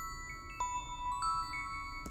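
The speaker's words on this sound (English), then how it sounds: "Oh, what are these bells?" Little bells in a slowcore song ring out as faint, sparse high tinkles over a quiet, soft low backing, a few separate strikes spread across the passage with no voices.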